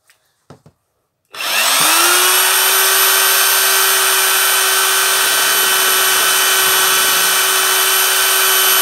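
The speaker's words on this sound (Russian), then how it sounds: "Вот сейчас я приготовил кирпич просто на сверление." A Hyundai H900 rotary hammer starts up after a few faint knocks and drills into brick loud and steady, a continuous high whine holding at full speed for several seconds.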